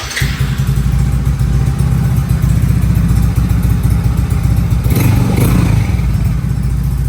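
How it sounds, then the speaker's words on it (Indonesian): A Yamaha Mio J scooter engine fitted with a clear Daltone 4100 exhaust runs loud and close, with a steady idling throb and a slight blip of revs partway through. "Untuk suara mesinnya seperti ini kurang lebih."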